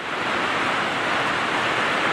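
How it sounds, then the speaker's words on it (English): Heavy rain pours outside a workshop, a dense, steady hiss of broadband noise with no break or talk over it. "It's pouring rain out"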